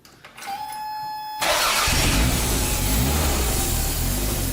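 A Toyota MR2 engine cranks briefly in a shop, then catches and fires up into a loud, steady running roar with a bit of revving, close and with no talk over it.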